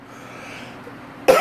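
A person gives a single sudden cough at the end, close and loud, after a quiet stretch with no talking.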